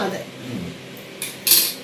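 Metal clinks of a pot and spoon sound close up in a kitchen as coconut oil goes into a cooker for broken wheat upma, a couple of short bright clatters after softer handling.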